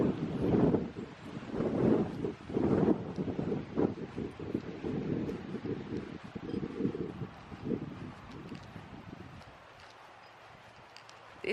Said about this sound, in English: Oh, boy, the wind's bad.